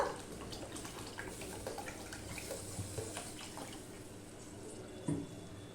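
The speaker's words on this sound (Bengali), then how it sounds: "জল দিয়ে দিচ্ছি এখানে আরেকটু জল লাগবে" Water is poured into a simmering catfish and broccoli curry in the pot, a faint continuous splashing trickle with a slightly louder gush near the end, and no talking.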